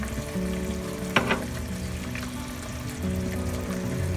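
Lobster pieces simmering in Thai panang curry sauce in a pan, a steady low bubbling sizzle with one brief louder splash or stir partway through, no talking.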